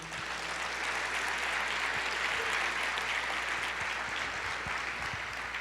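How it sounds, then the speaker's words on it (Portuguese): A church congregation applauding during a sermon, with broad, continuous clapping at a steady level throughout, somewhat distant and roomy, and no voices over it. "pode aplaudir ao Senhor."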